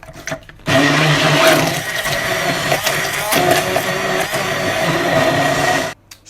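Blender blitzing vegan cream for a pie: after a brief quiet start the motor kicks in loud and close, whirring steadily for about five seconds with slight pitch wobbles, then cuts off abruptly.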